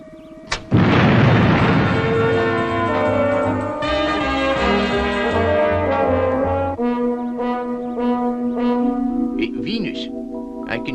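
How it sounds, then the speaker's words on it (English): Retro rockets firing on the spaceship Fireball XL5 as it enters Earth's atmosphere: a sudden loud blast that settles into a sustained roaring, droning rumble with ringing tonal layers, continuing for several seconds. "Fire retros, Robert."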